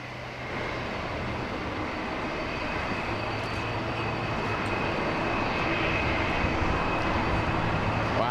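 Boeing 747-8 jet engines spool up at an airport, a broad steady roar that holds for the whole stretch and slowly builds in loudness, with no talking over it.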